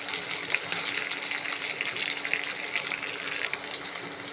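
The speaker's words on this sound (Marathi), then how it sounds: "आपण आता त्याच्यात भेंड्या फ्राय करून घेऊ" Okra pieces fry in hot oil in a kadhai, giving a steady, close, dense sizzle and crackle that holds for the whole stretch with no voices.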